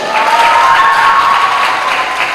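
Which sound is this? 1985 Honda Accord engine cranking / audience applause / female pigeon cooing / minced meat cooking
audience applause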